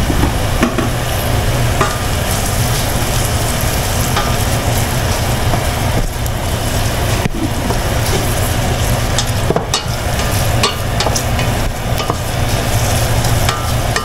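Ginger frying in hot oil in a pan while being stirred for homemade chili garlic oil, a loud, constant sizzle with occasional scraping clinks of the utensil, no talking.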